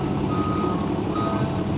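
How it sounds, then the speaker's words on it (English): A truck's reversing alarm repeats its short beeps in a steady rhythm at moderate distance, over a low engine rumble and broad background noise. "Oh, I hear it beeping."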